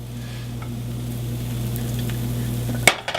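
Cinnamon apple pancake frying in a pan, a steady close sizzle with a low electrical hum beneath, ending in a sudden clatter and splat as the pancake is flipped.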